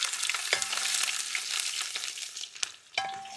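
Mustard seeds, fenugreek and ginger sizzle in hot oil for a Kerala-style sardine pickle, a steady hiss with scattered sharp crackles and pops, close by and with no voices.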